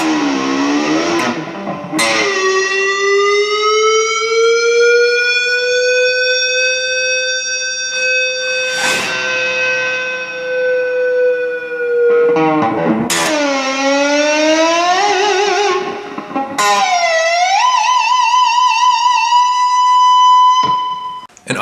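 Electric guitar dime squeals, pinch harmonics bent and swooping upward into piercing, whistling high tones, repeated several times loud and alone with short breaks between.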